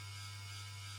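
Electric fans run with a steady low hum and a soft, even airy hiss, faint and unchanging throughout.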